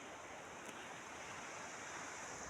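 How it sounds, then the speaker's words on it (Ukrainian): Strong wind roars steadily and loudly throughout, a dense broadband rush buffeting the microphone with no let-up. "Дуже сильний вітер."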